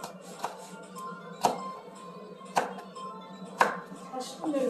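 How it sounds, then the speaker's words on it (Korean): A knife chops Cheongyang chili peppers on a cutting board, a few sharp, well-spaced thuds at a slow, uneven rhythm over a quiet kitchen background, with faint voices in the room. "고추 썰어 주세요"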